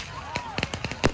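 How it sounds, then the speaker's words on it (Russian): Firecrackers burst on a crowded beach in a quick, irregular run of six sharp pops, one thin whistle rising and falling beneath them and the last bang loudest, with a voice speaking faintly in the background. "Все взрывают что-то."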